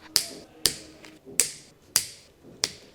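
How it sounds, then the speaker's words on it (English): Diagonal cutters snip excess zip ties while a 2023 Ford Bronco off-road light wiring harness is installed: five sharp, close clicks land at a steady pace about half a second apart, with no talking. "Continue using diagonal cutters to trim excess zip ties."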